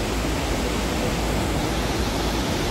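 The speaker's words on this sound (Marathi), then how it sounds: "इथे पण धबधब्याचा पाण्याचा चेक करा बघा" A waterfall pours at full force, giving a dense, steady roar of rushing water that fills the whole moment without a break, loud and close.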